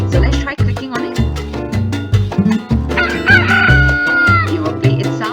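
Rooster crowing sound effect triggered in a click-the-chicken browser game, repeating in short bursts over a steady looping game music track, loud and close.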